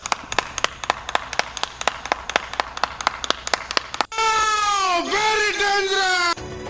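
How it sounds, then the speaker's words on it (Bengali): A steady run of hand claps, roughly a dozen sharp even beats, loud and close with no talk, then cut off by a sudden burst of bright synthetic effect tones from a Free Fire animation. "এই জন্য একটা তালি হয়ে যায়"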